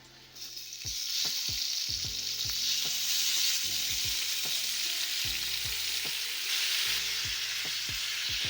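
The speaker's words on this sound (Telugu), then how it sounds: "ఇందులోనే 2 టేబుల్ స్పూన్ల ఆయిల్ వేసుకొని తర్వాత టమాటా ఫ్రై చేసుకోవాలి" Tomatoes hit two tablespoons of hot oil in a pan and break into a loud, steady sizzle that rises within the first second and continues, punctuated by repeated sharp metallic scrapes of stirring.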